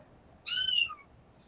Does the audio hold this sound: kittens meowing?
yes